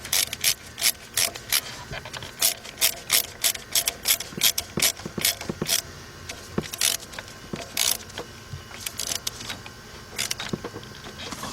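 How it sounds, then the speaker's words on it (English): A ratchet tightening a 5/16 bolt on the coolant pipe of a 1996 Dodge Intrepid, heard as a long series of quick, close clicking strokes in repeated bursts with brief pauses between them. "5/16. Let's tighten that up."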